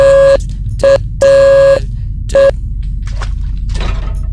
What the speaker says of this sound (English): that alarm that's actually in the other room is supposed to be the Morse code password